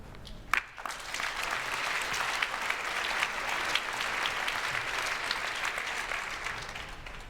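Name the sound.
audience applause for speakers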